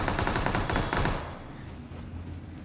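Gunfire in the mobile shooter BGMI: a rapid burst of automatic shots for about a second, then quieter trailing shots and lingering game ambience.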